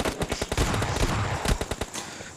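Rapid automatic gunfire from the mobile shooter game PUBG Mobile Lite, with bursts of close, loud shots in quick uneven rhythm running almost continuously through the short stretch.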